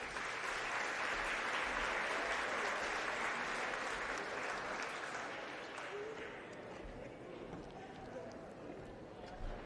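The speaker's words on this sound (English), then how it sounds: "Give them a round of applause." Sustained crowd applause at the Western Cape Prestige Agri Awards 2025 ceremony, dense and loud from the start, then thinning slightly toward the end.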